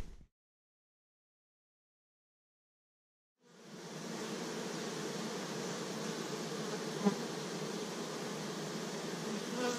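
Honeybees at a bee farm on Miyajima Island, Japan, where a beekeeper works the hives: after a few seconds of near silence, a dense, steady swarm buzz sets in and holds, close and continuous.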